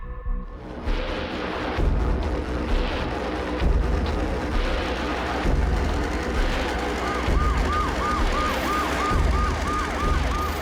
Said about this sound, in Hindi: Awasthi, call the ambulance.